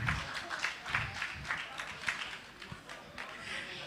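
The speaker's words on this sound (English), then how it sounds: "Just a round of applause as they come on stage." Scattered clapping from a crowd at an esports FIFA 23 grand final in Nairobi, fairly faint and uneven, with murmuring voices mixed in throughout.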